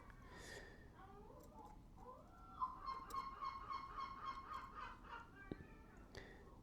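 Seagull named Vulture, a complaining male, gives a run of raspy, honking calls, moderately near, with a sharp click partway through.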